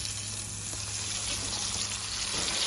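Carrot and other vegetable crisps fry in oil at about 180 degrees, giving a steady, close, continuous crackle and sizzle that carries through the whole stretch with no voices.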